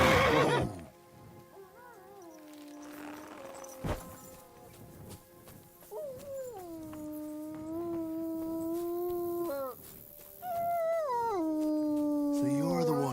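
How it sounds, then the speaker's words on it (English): A dog in the game Kingdom Come: Deliverance 2 howls in long wavering, sliding cries, several drawn-out howls in a row with short gaps between them, loud and fairly close, while someone talks under them. "No wonder the dog's howling like mad."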